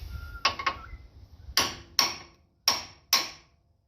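A hammer strikes a car part, first with two quick lighter taps, then four sharp metallic blows at steady intervals, each ringing briefly before fading, close and clear with no talk.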